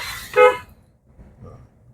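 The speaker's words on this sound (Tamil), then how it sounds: "ஹாரன் ஒரு முறை" A single short car horn honk sounds, brief and moderately loud, followed by faint rumbling.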